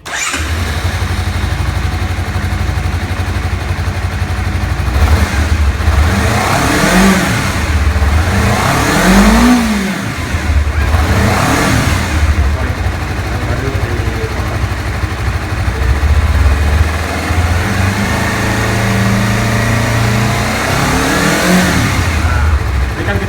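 A Honda CBR250RR motorcycle engine cranks and fires, then idles and revs up several times in loud, close rising and falling bursts.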